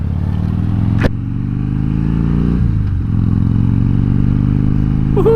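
A 2014 Harley-Davidson Dyna Fat Bob engine rumbles loud and close throughout, its deep V-twin throb rising as it revs, with a sharp clack near the start and a brief dip in the middle before it surges again.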